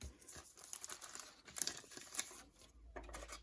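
Packaging for fish-shaped paper embellishments being opened by hand, with close crinkling and rustling of plastic and paper, a few sharper crackles and a brief tearing sound, all quiet and without talk.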